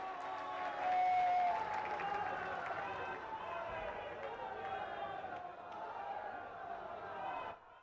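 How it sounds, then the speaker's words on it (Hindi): A large crowd at a public event in Varanasi welcoming the Indian Prime Minister, with loud sustained clapping and cheering that peaks early then holds steady for several seconds before cutting off, with voices mixed in. "सभी लोग खड़े होकर जोरदार तालियों से उनका स्वागत करें"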